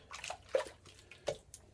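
Water splashing and dripping as French-style soap is rinsed off the hands, with a few irregular wet splashes and drips at close range.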